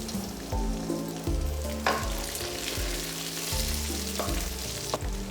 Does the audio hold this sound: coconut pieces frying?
yes